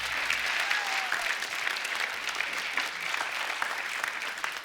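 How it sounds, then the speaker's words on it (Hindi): A crowd applauds loudly and steadily, a dense wash of clapping lasting several seconds. "एक बार जोरदार तालियां होनी चाहिए।"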